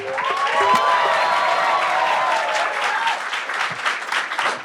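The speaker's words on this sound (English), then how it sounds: "with a huge round of applause, please welcome on stage your only act for the evening, Kunal Kamra." A large stand-up comedy audience bursts into loud, sustained applause with some cheering as the comedian is welcomed on stage, the clapping steady throughout and swelling near the start.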